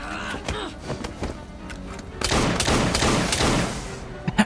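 Gunfire in Assassin's Creed Syndicate: a volley of sharp gunshots and rapid bursts amid game combat noise, dense and loud in the second half, with scattered thumps.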